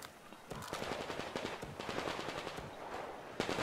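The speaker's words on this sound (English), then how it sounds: "and there's gunfire somewhere." Rapid bursts of automatic gunfire in Metro Exodus rattle out repeatedly, sounding somewhat distant and thin against a noisy background.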